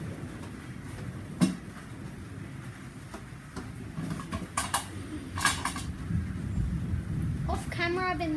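Steady rain hisses throughout a storm, with a few sharp rumbling bursts of thunder rising above it and a voice speaking briefly near the end.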